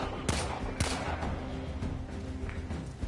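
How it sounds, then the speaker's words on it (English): Bursts of automatic gunfire from the Warframe video game, with several sharp, loud volleys in quick succession over a low steady game background, no talk. "So hold L2 to aim, hold R2 to shoot."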